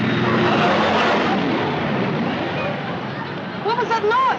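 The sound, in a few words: big airplane flying past, radio drama sound effect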